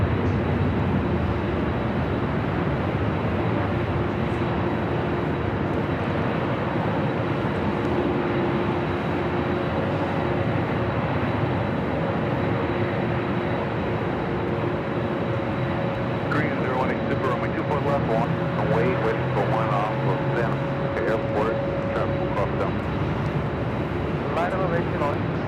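A Korean Air Boeing 747 arriving on runway 24 left at Los Angeles airport produces a sustained broad engine rumble at moderate distance, with a voice talking over it in the later part.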